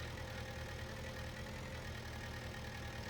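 A tractor engine idles in the video game Farming Simulator 19, a steady, even low drone that holds without change and plays alone with no voices.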